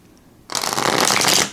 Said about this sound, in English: All right, so next is the shuffle test.